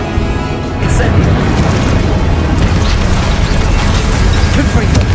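Incendio fire spell cast in the video game Hogwarts Legacy, a loud, dense roaring burst that swells after a brief lead-in and rumbles steadily alongside mechanical game effects throughout.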